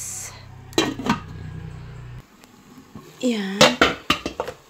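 Metal clatter as a lid is set onto a cooking pot of sautéed papaya for chicken tinola, a few sharp clinks and knocks close by, with a person speaking briefly between them.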